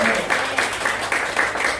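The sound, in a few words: congregation applause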